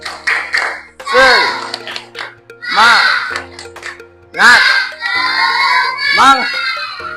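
Schoolchildren in a fourth-grade class perform a loud, rhythmic clapping chant, sung voices in unison punctuated by bursts of claps in a patterned beat, repeated several times close by.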